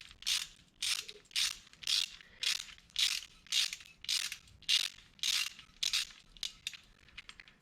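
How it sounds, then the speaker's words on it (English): A ratchet with a socket winding down a fastener on a VR Commodore ute engine during valve stem seal work, about a dozen rhythmic clicking bursts in steady succession, close and crisp with no talk. "ratchet and I start put my socket on it. And then I start winding it down"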